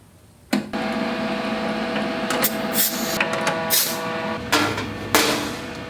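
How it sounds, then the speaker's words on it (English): A plasma cutter slices through metal panels for a homemade firebox camping stove, starting abruptly with a harsh, continuous buzzing hiss that holds steady, with several brighter crackling bursts as the torch runs along the cut. "run my plasma cutter along it to cut these things out"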